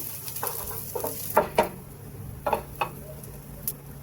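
Soy chunks fry until golden brown in a pan, giving a soft steady sizzle broken by several sharp clicks and scrapes of stirring, close and fairly quiet, with no talking.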